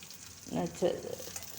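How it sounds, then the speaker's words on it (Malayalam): Mustard seeds, fenugreek, chopped shallots and chili fry in coconut oil in a small pan. The sizzle is soft and close, with a couple of brief stirring bursts. "ഒരു ചീനച്ചട്ടിയിൽ കുറച്ച് വെളിച്ചെണ്ണ ഒഴിച്ച് അതിലേക്ക് കുറച്ച് കടുകിട്ട് കുറച്ച് ഉലുവയും ഇട്ട് ഉള്ളിയും ചെറിയ ഉള്ളി അരിഞ്ഞതും ഇട്ട് മുളകും ഇട്ട്"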